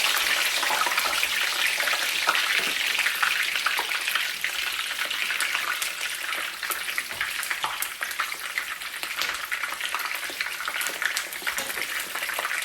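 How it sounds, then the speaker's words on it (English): Banana peppers, a Scotch bonnet and garlic fry in a generous amount of vegetable oil, giving a steady, loud, close crackling sizzle with small pops throughout and no talking. "So that's just gonna flavor the oil before I put the fish in. So I'm gonna let this fry"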